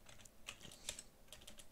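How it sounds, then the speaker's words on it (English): Code is typed on a computer keyboard in quick, irregular keystrokes, close but quiet, with no talking. "we're going to want to type in gf.animation"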